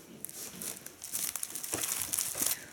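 A gift box for a belt is opened and a small plastic packet inside crinkles and rustles, with soft, irregular crackles close to the microphone and growing busier toward the end.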